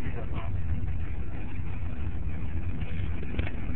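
Mercury Grand Marquis car hauling round hay bales, a low steady engine rumble and road drone heard from nearby, with people talking over it.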